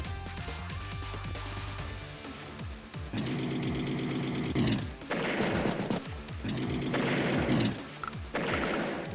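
Artillery gunfire from the Advance Wars strategy game: repeated bursts of booming, crackling blasts in two long pairs, loud and dense over a steady game music background, with no voices.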